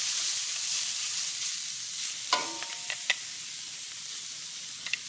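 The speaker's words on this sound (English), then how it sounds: "we're going to stir fry these" Small-cut vegetables stir frying in a hot pan give a steady bright sizzle, broken by a few sharp clicks and scrapes as they are stirred, close up with no talking.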